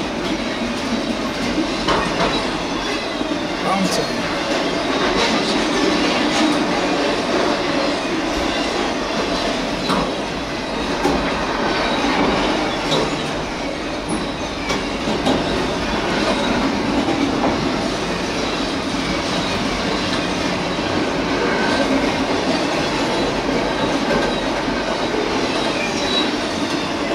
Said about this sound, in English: Symbol on that train is CSX I-165 with the CP Heritage unit.